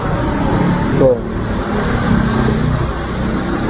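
A car with an aftermarket exhaust gives a continuous loud, low engine rumble throughout, heard under someone talking.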